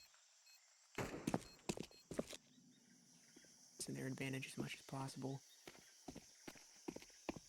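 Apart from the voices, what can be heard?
loud footsteps in Counter-Strike video game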